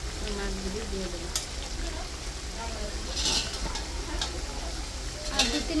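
Koi fish frying in a pan with a steady sizzle, stirred and scraped by a utensil, with several sharp clinks scattered through. A voice is talking over it.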